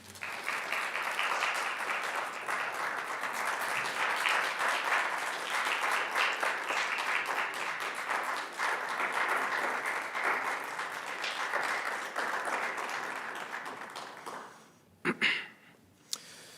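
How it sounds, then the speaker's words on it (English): An audience at an MLK celebration event applauds in a sustained, even wash of clapping lasting over ten seconds before fading out, followed by a couple of sharp knocks. "we are sure that you are applauding Mr. McMillan and all of us here tonight"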